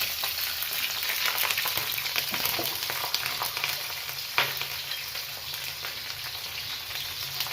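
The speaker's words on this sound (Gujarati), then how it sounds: "રાઈ ફૂટી ગયા પછી આપણે મરચાંને મીઠા લીમડાના પાન નાખીએ છીએ" Chilies and curry leaves sizzling in hot oil after mustard seeds have popped, a dense, even crackle with a few sharper pops, heard close and alone for Gujarati patra tempering.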